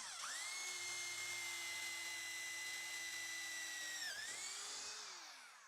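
A high-pitched hammer drill with a 5.5 mm bit whines steadily into steel for several seconds, dipping briefly near the end before spinning back up, loud and close.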